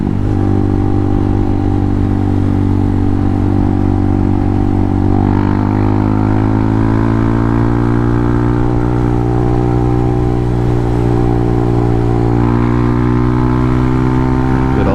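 Honda Hawk 250 motorcycle engine running while riding, heard up close as a loud, continuous drone whose pitch rises and falls through gear changes, with wind roar underneath and no talk.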